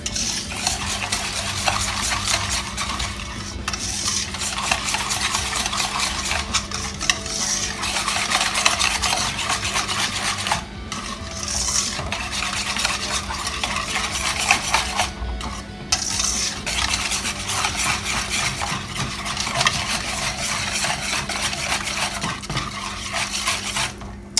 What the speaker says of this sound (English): So we're going to mix all of that together.